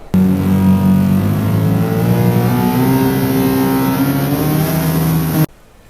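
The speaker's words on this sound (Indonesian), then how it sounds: "Tolong siapkan mobil Alphard. Kita mau pergi secepatnya." A Toyota Alphard van driving off, its engine revving loudly and steadily for about five seconds before cutting off abruptly.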